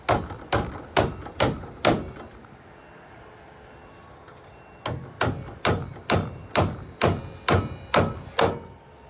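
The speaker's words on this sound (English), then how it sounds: "I like to put one of my 3¼ inch nails in" A 3¼ inch nail driven into a metal joist hanger with steady hammer blows, a rapid run of about seven sharp strikes, a pause, then another run of about nine, loud and close.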